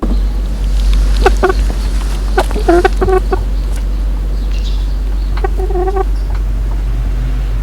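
Several chickens cluck in short bursts over a steady low hum, with quiet gaps between the clucking clusters.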